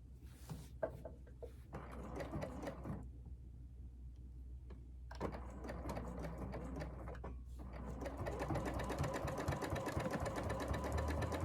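A sewing machine stitches a batik canvas jacket in bursts of rapid mechanical ticking, stopping briefly between runs, then running steadily and slightly louder toward the end.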